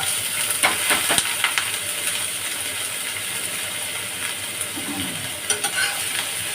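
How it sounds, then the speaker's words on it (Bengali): Green chili and black cumin seeds sizzle and crackle steadily in hot oil, with a spoon stirring and scraping through the pan; the frying hiss stays loud and close throughout, no one speaking. "কাঁচা লঙ্কা কালো জিরে ফোড়ন দিলাম, দিয়ে একটু নেড়ে চেড়ে দেবো।"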